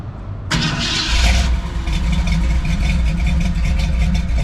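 A 1966 truck fitted with a 2.5-inch Flowmaster exhaust fires up abruptly and settles into a loud, rumbling run with slight surges of revving, close by and without talk.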